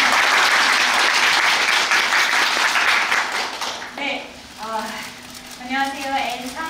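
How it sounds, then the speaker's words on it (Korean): Audience applause at the closing-performance curtain call of the musical Anne, dense and loud for about four seconds, then thinning out as an actor starts speaking over the last scattered claps. "힘찬 박수 부탁드립니다."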